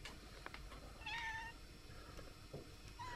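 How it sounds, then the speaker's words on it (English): A house cat meows by a window, a couple of short, clear mid-pitched meows close by over a quiet room background, with no talking. "My cat loves to be in the window here."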